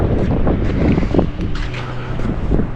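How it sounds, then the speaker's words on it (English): Steady wind rumbles and buffets against the microphone outdoors at a beach, a continuous low roar with gusty swells and no voices. "It's not cold, it's a bit windy"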